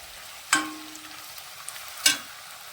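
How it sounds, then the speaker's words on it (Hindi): Crushed garlic and onion frying in a pan, a low sizzle broken by two sharp scraping stirs, close by with no talk. "ये फिर लहसुन भी इसमें डाल दी है"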